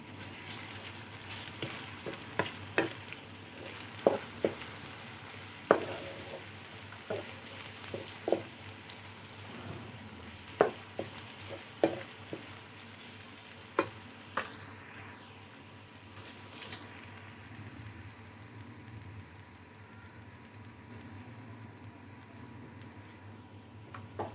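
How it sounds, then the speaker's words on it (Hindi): Ginger garlic paste fries in a pan, a soft hiss with scattered sharp pops and crackles, gradually settling into a quieter steady sizzle; no one speaks. "अब इसमें डालते हैं अदरक लहसुन का पेस्ट। बिस्मिल्लाहिर्रहमानिर्रहीम। इसे भी फ्राई करते हैं।"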